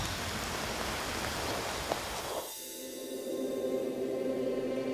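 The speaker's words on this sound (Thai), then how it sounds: "ฝนหยาดแรกก็กลายเป็นสายน้ำที่หลั่งไหลอย่างรวดเร็ว" Heavy rain pours as the dry season ends, then gives way to the steady rush of fast-flowing water, a dense broadband wash that shifts partway through into a continuous stream roar.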